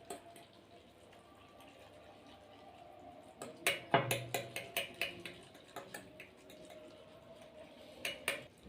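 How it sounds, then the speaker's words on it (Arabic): Knorr instant noodles being stirred with their seasoning, a spoon clinking repeatedly against the bowl in a quick series of close, sharp taps with a soft liquid background. "ونديها بقى تقليبة"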